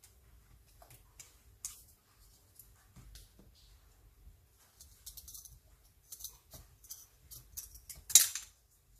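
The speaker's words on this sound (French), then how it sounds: "je vais essayer de le faire au ciseau quand même" Quiet, scattered snips and crisp clicks of scissors cutting material for mini slates, irregular and close, with soft handling noises between cuts and a sharper snip near the end.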